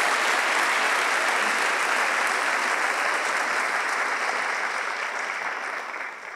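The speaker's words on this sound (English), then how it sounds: "So I'd just love to give our honorees one more big round of applause here this evening." A big, sustained round of applause from the audience at a school district honors recognition ceremony, dense and even throughout before easing slightly at the end.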